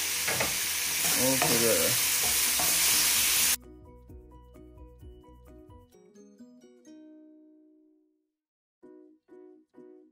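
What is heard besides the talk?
tomatoes, ginger and garlic frying for pinakbet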